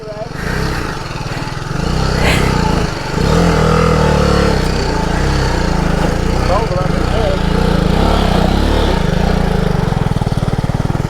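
Small BMW GS 310 motorcycle engine droning steadily at close range while riding, a continuous buzzy hum with slight rises in revs, heard alongside voices talking.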